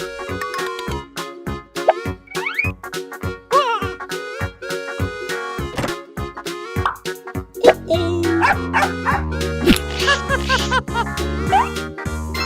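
A cartoon dog barks amid upbeat children's alphabet song music, several short bow-wow calls blending with rhythmic plucked notes that grow fuller partway through.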